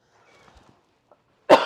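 A single sharp cough bursts out near the end, loud and close, after a stretch of near silence with faint rustling.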